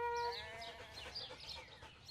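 Sheep in an educational farm video game give a clear wavering bleat at the start, followed by softer overlapping animal sounds and background game ambience.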